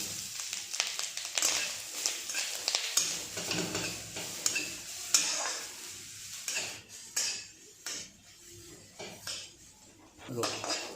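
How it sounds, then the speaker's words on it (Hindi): Bay leaf and grated coconut frying in hot ghee in a pan, with faint sizzling under frequent stirring scrapes and utensil clinks against the pot; a person speaks briefly over the cooking. "घी गरम हो गला पर से आमे पकेइबा तेजपत्र, कोरा होइतिबा नड़िया"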